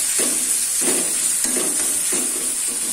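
Tomato, onion, ginger and garlic sauté in a hot pan for an egg curry, with a constant sizzling hiss and regular stirring scrapes recurring about every half second, close and clear.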